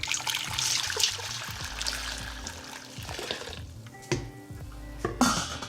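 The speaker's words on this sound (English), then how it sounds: "Now with the boiling water, you're going to pour it into a big pot." Boiling water, about two litres, poured from a kettle into a big pot for cooking tapioca pearls: a steady trickling splash that fades and breaks into a few separate drips and clinks near the end.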